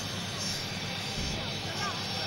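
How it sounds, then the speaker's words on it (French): A presidential airplane rolls to a stop at an airport in Côte d'Ivoire during an official welcome ceremony, its engines a steady loud broadband roar with faint voices of the ceremony beneath. "l'avion transportant le président de la République s'est immobilisé"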